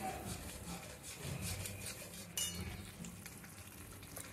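A spatula scrapes and stirs spice paste mixed with sour yogurt in a pan for cauliflower egg curry, giving soft continuous rubbing and light sizzling, with one sharper knock partway through.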